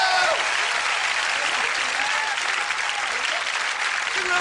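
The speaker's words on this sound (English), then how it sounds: "Applause for Linda." Audience at a corporate comedy show breaks into sustained, loud applause from a large crowd, steady clapping filling the whole stretch with no voice on top.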